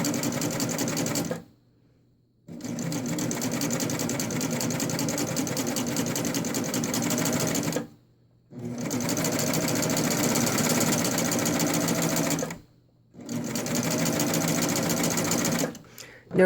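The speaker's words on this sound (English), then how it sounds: "I'm just going to sew down." Sewing machine stitching down a triple cover seam on stretchy exercise-wear fabric, running in long steady bursts with a constant whirring hum, stopping briefly three times between runs.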